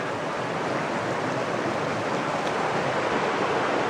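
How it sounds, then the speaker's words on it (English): Creek water rushing steadily along a trail near Laurel Fork Falls, a loud, continuous broadband hiss of flowing water with no breaks. "What a beautiful creek."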